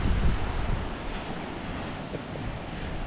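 Black Sea waves at Odessa after a storm wash and rumble continuously, mixed with gusty wind buffeting the microphone; no voices.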